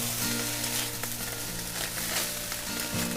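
Sour cream stirred into perogies in a hot pan with the heat just turned off, a steady, close sizzle with soft scraping and stirring through it.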